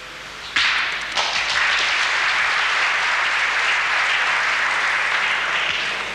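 Crowd applause for a pétanque player at a 1994 Canal Plus trophy match in Chalon-sur-Saône, breaking out suddenly after a brief quiet moment and holding as dense, loud clapping to the end.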